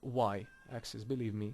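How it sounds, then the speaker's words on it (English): A house cat meows close by in short, rising harmonic cries, partly overlapping a man who is explaining 3D scaling in a game-making tutorial. "Oops, sorry, that's my cat."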